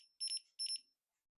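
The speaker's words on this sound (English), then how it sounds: "So this is beep number 8." A Jugbow dog training collar emits two short, shrill electronic beeps in quick succession, close and clear against silence.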